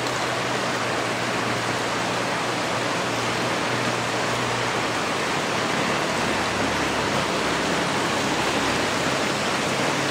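Floodwater rushes in a loud, continuous roar like a gushing fountain, steady and unbroken throughout.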